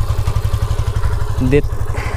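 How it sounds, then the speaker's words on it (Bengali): A motorcycle engine idles steadily right after being pull-started, a close, continuous low throb with a brief clatter near the end. "দেখতে পাচ্ছেন বাইকটা কিন্তু স্টার্ট হয়ে গিয়েছে"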